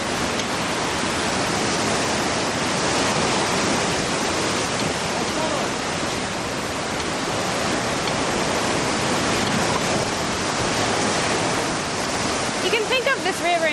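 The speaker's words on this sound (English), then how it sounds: "the fast-flowing rivers that tumble through these valleys" Fast-flowing river tumbling through Himalayan foothill valleys, a loud continuous rushing roar of whitewater that stays steady throughout, heard up close with no voices.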